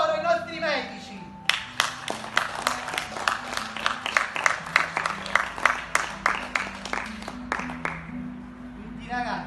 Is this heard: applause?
yes